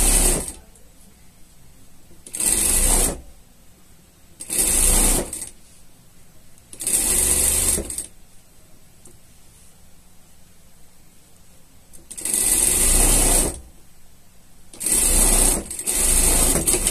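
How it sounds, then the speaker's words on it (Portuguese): Sewing machine stitching a seam on unicorn pajamas, a loud, close mechanical whirr that runs in several short bursts of about one second each, separated by quiet pauses. "Vamos passar uma costura aqui"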